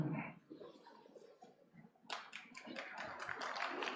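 An audience at an educators' conference in New Delhi claps. The applause is faint and distant and bursts up after a quiet moment, with scattered taps, while a voice talks at the start.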